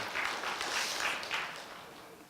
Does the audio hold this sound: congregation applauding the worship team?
yes